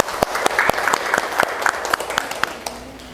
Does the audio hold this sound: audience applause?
yes